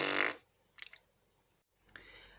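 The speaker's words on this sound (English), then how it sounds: "Amelia let out a giant fart" Loud, wet fart sound effect in a children's story, a single long blast up front followed by a few smaller sputters and a brief later burst, heard alone.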